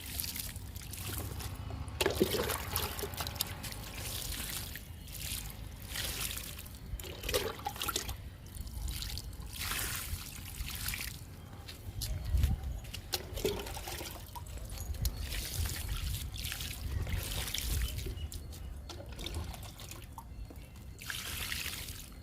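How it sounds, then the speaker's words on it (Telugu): Mugfuls of water are poured onto soil where ridge gourd and okra seeds are planted, producing repeated splashing pours and drips at an easy pace, nearby and moderately quiet, with faint outdoor background and no speech. "bend ఇత్తనాలకి Potla ఇత్తనాలకి water ఇచ్చేద్దాము"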